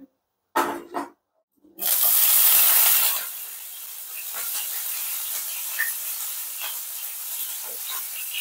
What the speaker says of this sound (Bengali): তো ফটাফট করে তেলটা গরম হোক, বটবটিগুলোকে দিয়ে দিই।